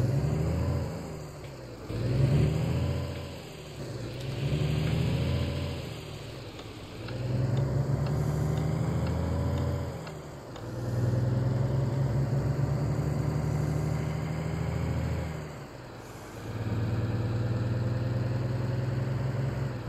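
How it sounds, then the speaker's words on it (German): Truck engine in Alaskan Road Truckers starting and then running steadily, a deep, loud rumble that swells and eases in repeated waves of revving, with no talk. "so, Motor an. weiter geht's."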